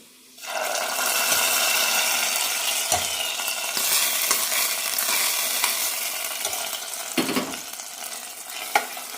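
Cumin fried in ghee is poured into rice payasam, bursting into a loud sudden hiss that settles into a steady sizzle, with occasional spoon knocks as it is stirred.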